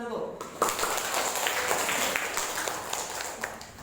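A classroom of students breaks into applause, a steady, fairly close patter of many hands clapping that lasts a few seconds.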